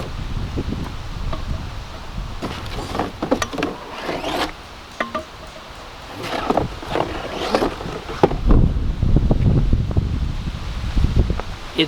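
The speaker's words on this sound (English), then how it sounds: "It's windy" Gusty wind buffets the microphone, roaring and rustling in uneven bursts that swell louder toward the end.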